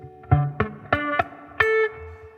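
Five short guitar chord strums in quick succession, poorly fretted with too little finger pressure, each decaying fast with a thin, buzzy, muffled tone rather than ringing cleanly.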